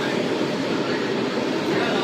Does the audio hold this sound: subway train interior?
yes